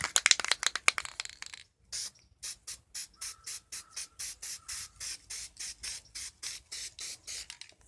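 A spray can lays a first coat of primer on a gas tank. A quick cluster of short hisses is followed by a steady run of about fifteen brief, evenly spaced spray bursts, moderately close and fairly quiet.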